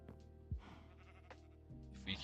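Sheep bleat in a modded Minecraft game, GTNH, in a few short, quiet calls, one of them bending downward. A voice talks over them much of the time.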